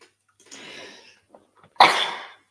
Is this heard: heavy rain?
no